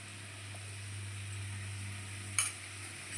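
Masala potato chip sabji being stirred in a pan, giving a quiet, steady sizzle with one short scrape of the spoon near the end.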